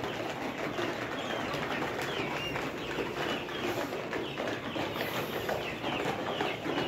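Layer hens in a poultry shed cluck and chatter in a dense, continuous flock chorus, steady and moderately loud throughout with no talking.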